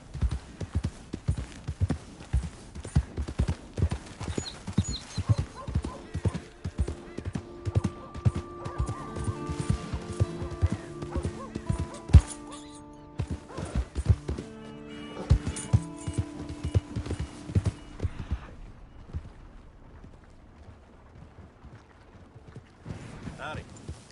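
Horse hooves clip-clop in a steady rhythm through a Red Dead Redemption 2 game scene, with whinnies and neighs breaking in, all set over a musical score with voices speaking at moments.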